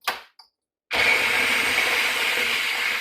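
Blender whizzing curry butternut squash soup, a short click and pause followed by a loud, steady, close high whir that runs unbroken to the end with no talk.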